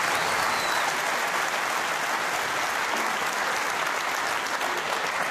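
The Crucible crowd breaks into loud, sustained applause for a century break during the 2014 snooker match between Neil Robertson and Mark Selby. The dense clapping fills the hall evenly, close and unbroken, with no one speaking.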